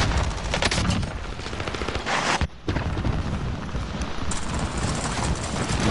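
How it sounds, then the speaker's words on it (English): A rapid, dense barrage of nail gun fire in a video game, with continuous loud clattering shots and a brief pause partway through before it resumes. "Nail gun, gotta love it."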